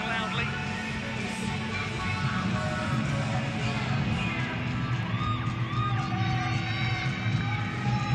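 A crowd fills a venue at the 2019 men's tumbling final of the World Championships, shouting and cheering in a steady, dense roar that holds from start to finish, with scattered whoops and yells rising above it.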